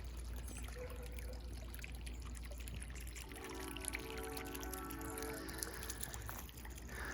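Water trickling in a garden fountain, a faint continuous splash and dribble over low background rumble, with a brief tonal hum partway through.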